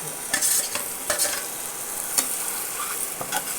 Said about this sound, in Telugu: ఉల్లిపాయ ముక్కలు అన్నీ వేగాయి కాబట్టి ఇప్పుడు ఆమ్లెట్ ముక్కలు వేసుకోవాలి